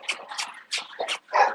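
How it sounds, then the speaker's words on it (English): A pet dog lets out a close, excited string of high whimpers and yips, five or so quick breathy cries in an uneven rhythm with short gaps between them. "This dog love me to death, y'all"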